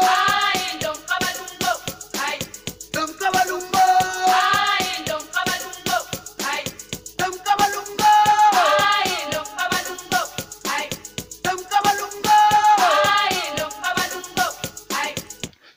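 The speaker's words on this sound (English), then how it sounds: "the other insane thing I did to this beat was to add in the kavalungu vocals" A kavalungu beat made in FL Studio Mobile, with chopped, pitched vocal phrases riding over punchy, steady percussion hits, loud and dense, repeating in looping sections without talk.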